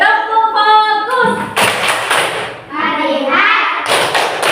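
A primary madrasah class at MI Darul Akhlaq performs the 'tepuk fokus' clapping chant: children chant together in unison, then loud bursts of rapid group clapping break in, alternating chanted phrases and close, dense claps.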